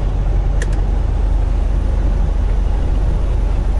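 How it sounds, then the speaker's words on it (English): A truck with its engine brake engaged, driving between Beckley and Charleston, West Virginia, produces a loud, steady low engine drone heard from inside the cab, with no talking. "The engine brake is engaged."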